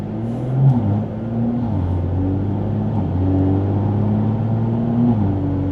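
A car with an xHP transmission tune accelerates hard through quick gear shifts, a droning engine rising in pitch and dropping sharply at each change, heard from inside the cabin.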